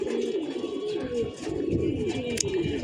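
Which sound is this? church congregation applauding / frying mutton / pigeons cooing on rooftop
pigeons cooing on rooftop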